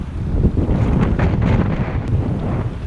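Strong wind sweeps across freezing Lake Tahoe during a trout fishing trip, roaring and buffeting the microphone in a loud, continuous rumble with no talking.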